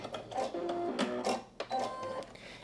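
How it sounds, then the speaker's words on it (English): A sewing machine stay stitching the fabric of a little black dress: a short, close run of fast mechanical whirring and buzzing with a brief pause midway. "So go ahead and stay stitch."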